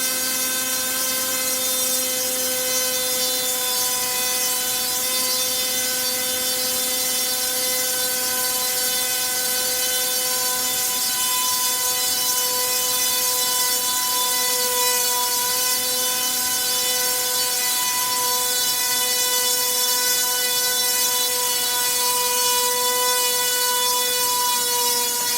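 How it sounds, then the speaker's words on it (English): A model aircraft's electric motor runs at a steady high pitch for the whole stretch, loud and close, a constant whine with strong harmonic tones and no pauses. "I thought I'd let you see the engine running, the electric motor going, because it's powerful"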